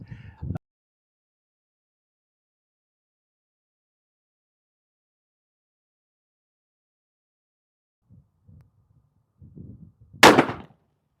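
A Ruger .480 Super Blackhawk revolver fires a single loud, sharp gunshot near the end, preceded by an earlier brief blast and a few faint handling sounds amid long silence.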